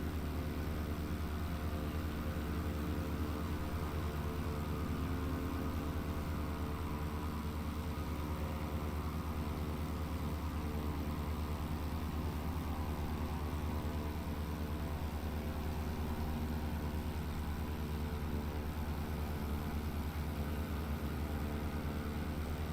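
Simulated aircraft engine in Microsoft Flight Simulator 2020 holds a steady, unbroken drone at a constant pitch for over twenty seconds, moderately loud and alone with no talk.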